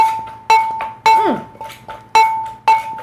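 Som tum with large chicken feet is pounded in a mortar, six sharp, ringing, clinking knocks coming in a quick uneven rhythm, with a metallic tone lingering after each strike.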